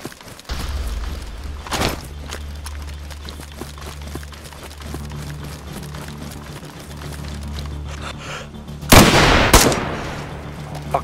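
Gunfire in a zombie-filled PvP video game: scattered sharp shots over a steady low in-game rumble, with a louder cluster of close blasts near the end.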